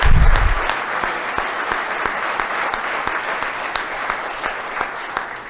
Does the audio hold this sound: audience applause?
yes